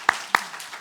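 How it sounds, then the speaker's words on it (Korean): Two sharp hand claps from a church congregation during a Sunday worship service, closely spaced and followed by a quieter diffuse patter fading away. "박수 한번 하겠습니다"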